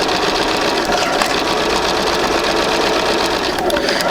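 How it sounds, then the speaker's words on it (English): A sewing machine runs steadily, stitching quilt pieces along a marked line for an intermediate sampler quilt, a continuous close, loud whir with no pauses. "I'm sewing right on the line"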